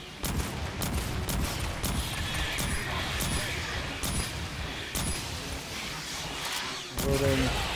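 Gunfire rattles in Aliens: Fireteam Elite, with dense bursts of rapid automatic fire, loud and continuous, plus sharp individual cracks. Voices talk over the shooting at times.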